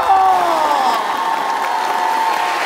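A studio audience at a Korean TV talent show greets a contestant with loud, sustained applause and cheering, dense and close, fading slightly toward the end.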